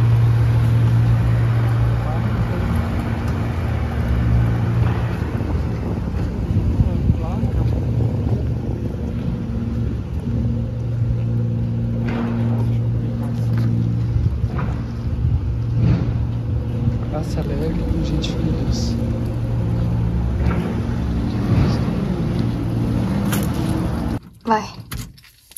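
A Volkswagen Kombi van drives around town, its engine a steady low drone that rises and falls as it moves through traffic, with occasional voices over it.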